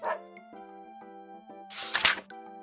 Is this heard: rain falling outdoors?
no